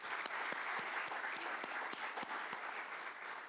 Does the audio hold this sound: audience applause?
yes